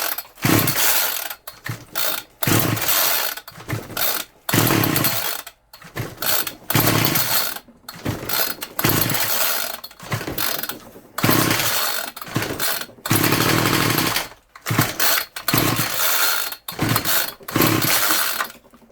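A Homelite string trimmer engine sputters through short revving bursts, surging loud then cutting out again and again, a rough, uneven start that never settles into a steady idle.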